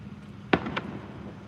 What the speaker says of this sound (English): There's a bunch of fireworks going off